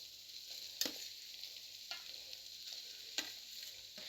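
Pieces of shark fish stir into a frying masala in a pan, giving a soft, steady sizzle with a few sharp scraping clinks of a spoon against the pan at irregular intervals, quiet overall and without speech.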